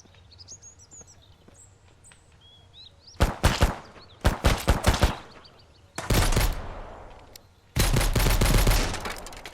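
Pistol fire in the Mist Survival video game: bursts of loud, close gunshots in quick succession, first a cluster of separate cracks then two longer rapid volleys, following a quiet stretch with faint bird chirps.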